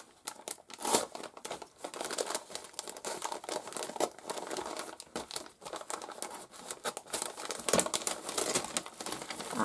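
A taped, wrapped package is unwrapped, giving continuous close crinkling and crumpling of paper with brief tearing and tape-pulling sounds at a moderate, uneven level.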